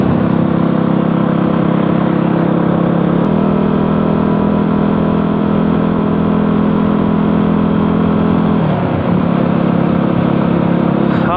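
A motorcycle on a cold-weather camping tour rolls along the road at a leisurely pace, its engine a steady, close, continuous drone that dips briefly near the end as the engine note shifts.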